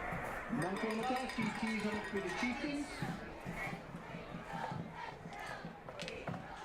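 A stadium crowd at a high school football game between the Utica Chieftains and Grosse Pointe North Norsemen roars and cheers loudly and steadily, with shouting voices mixed into the sustained din.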